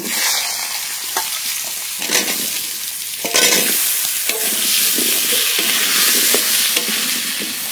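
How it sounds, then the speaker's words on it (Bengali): Cut, washed potatoes fry in oil left over from frying fish, giving a loud, steady sizzle with repeated stirring scrapes and clinks of a utensil against the pan throughout. "এই মাছ ভাজা তেলের মধ্যেই আলু ভেজে নেব"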